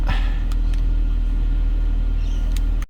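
A Jaguar XJS with a 3.6 litre engine, a Hong Kong import, idles steadily nearby with a constant low rumble and faint higher ticks, alone without talk, cutting off abruptly at the very end.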